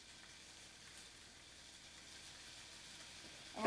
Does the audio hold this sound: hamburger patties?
yes